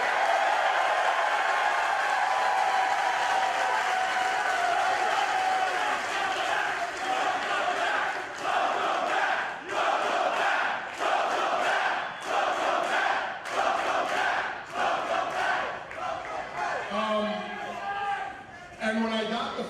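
A live wrestling crowd at the 2300 Arena cheers and applauds, a loud, dense roar at first that breaks into choppier bursts of clapping and shouts, with someone speaking over it.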